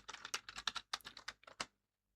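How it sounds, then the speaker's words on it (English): Quick typing on a computer keyboard, about a dozen crisp, close key clicks in an irregular burst, then silence, with no talking. "let's type Java"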